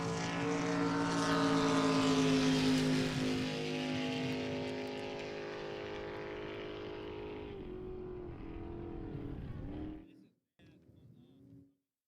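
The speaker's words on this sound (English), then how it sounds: "It'll be Drag This, Tyler Riggs, Mod Eliminator. 557 Chevy Colt TR4, Fleming Racing Engines" A Mod Eliminator Chevy Colt drag car with a 557 Fleming Racing engine roars loudly at a drag strip, then the engine drone fades steadily into the distance before cutting off.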